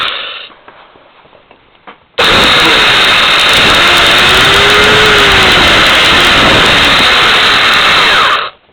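After a quiet, faintly rustling start, a small electric drill switches on abruptly and runs at a steady, loud, high whine for several seconds before cutting off near the end.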